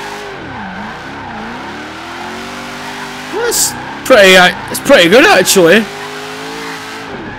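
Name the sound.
Shelby GT500 muscle car drifting in video game Forza Horizon 3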